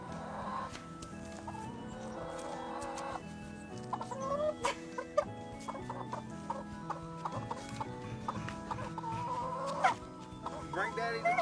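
Chickens cluck in a farmyard, repeated short clucks in irregular bursts that grow busier midway, with other animal noises and occasional knocks mixed in and soft background rustle.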